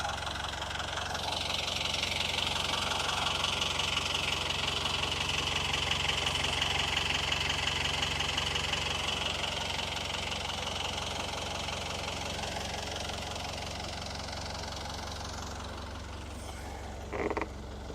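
A cold boat engine idles with a steady low rumble and a faint knocking chug while its prop shaft turns slightly, continuous and fairly close, with a brief clunk near the end.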